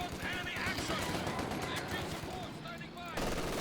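Dense rattling machine gun fire from a Company of Heroes 2 battle involving an MG42 and a Universal Carrier, steady bursts of gunfire layered with other battle noise throughout.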